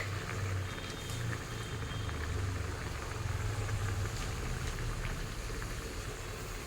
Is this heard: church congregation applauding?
no